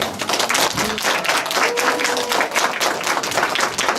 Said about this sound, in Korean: 여러분, 지금까지 여러분의 해양 활동의 안전과 또 재미를 더해주신 우리 두경훈 부장님께 큰 박수를